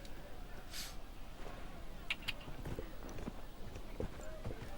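Horse hooves clop in the video game Dragon Age: Inquisition, with a brisk run of hoofbeats that is moderately loud and mixed with game background sounds.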